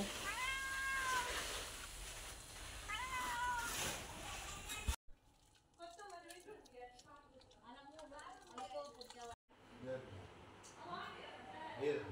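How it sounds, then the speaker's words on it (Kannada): A cat meows several times in a home, with a few rising, drawn-out calls up close. People talk in the background and the sound cuts between short takes. "ಬೆಕ್ಕು ತೋರಿಸ"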